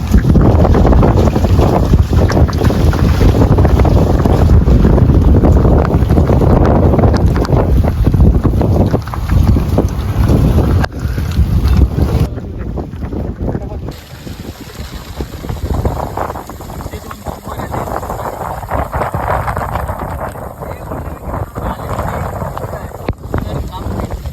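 Strong wind buffets a small fishing boat out at sea in stormy, rainy weather. The roar is loud and continuous, with heavy microphone rumble that eases a little partway through.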